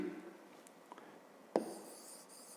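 Pen writing an answer by hand on paper during a fifth-grade math exercise, soft scratchy strokes with a sharper tap midway, close and quiet, no talking.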